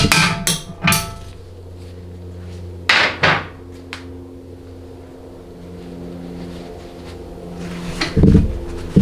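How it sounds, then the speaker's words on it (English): A bushing driver is struck to seat a new case bushing in a 6L80 automatic transmission case, giving sharp, loud metallic hammer blows in short bursts of two or three, separated by quiet pauses with a low hum beneath. "So I use a different driver to install the new bushing compared to what I use to"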